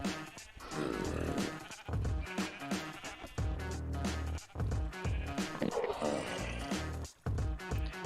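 Video-game farm sheep bleat again and again over a dense, busy backdrop that also carries music and talking, the calls coming in quick overlapping bursts at close range.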